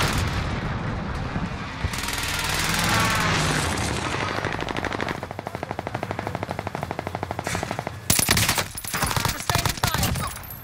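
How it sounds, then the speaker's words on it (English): Precision airstrike explosions in Call of Duty, heavy booming blasts and a dense rattle of rapid gunfire, with sharp loud bursts near the end and faint voice chatter mixed in. "friendly precision airstrike inbound"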